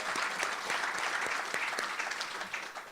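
Steady round of applause from an audience at a university entrepreneurship gathering, dense continuous clapping at moderate volume throughout, with no speech over it.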